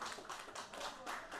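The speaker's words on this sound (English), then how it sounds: "A well-deserved round of applause" A small group claps after the Super High Roller Europe Event 2 poker tournament final hand, the applause faint and distant, a brief patter of hands with no voices.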